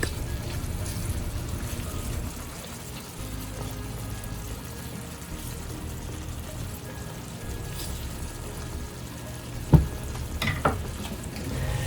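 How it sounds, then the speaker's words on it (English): Apple slices simmering rapidly in butter in a pan, a soft steady bubbling sizzle with occasional stirring clinks near the end, no talking. "I'm cooking them on a rapid simmer. So make sure you put them back down in the butter so they can continue to cook."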